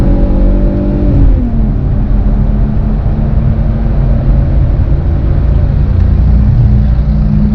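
Engine of a 2005 Nissan Stagea M35 250 RX Four with a 2.5-litre V6 while driving: a loud, steady droning hum whose tone dips once early on, then holds a smooth, even note alone throughout.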